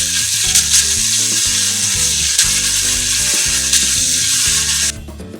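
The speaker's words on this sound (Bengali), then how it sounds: "এখানে লম্বা করে কাটা যে পেঁয়াজ রাখা আছে সেই পেঁয়াজটা আমি এর মধ্যে দেব। পেঁয়াজটা সামান্য লাল করে দেব।" Sliced onions fry in hot oil for a chicken kofta curry, giving a loud, steady sizzle close up that cuts off sharply near the end.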